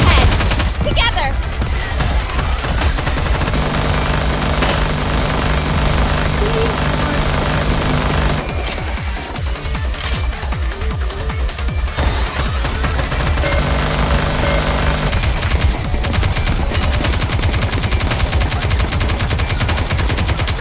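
Rapid gunfire from Goddess of Victory: Nikke fills a continuous, dense battle mix, with repeated bursts layered over game music and character voice lines.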